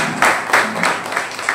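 Audience applause at a Buddhist community gathering marking the end of the Varshavas retreat, a close burst of clapping with several swelling waves across the short stretch.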